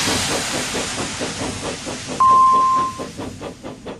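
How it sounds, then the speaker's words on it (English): A steam engine puffs rhythmic chuffs of hissing steam, then a sharp steady whistle tone cuts in briefly as the chugging continues and fades, close and loud. "leaving Toby in a cloud of steam"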